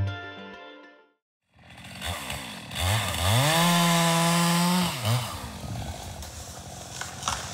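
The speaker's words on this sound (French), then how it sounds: "Les bruits de tronçonneuses résonnent dans la forêt depuis le 20 octobre" Chainsaws cut into trees in a forest, the engine revving up to a high sustained whine, holding, then dropping back to a rough idle after a brief quiet start, close and loud.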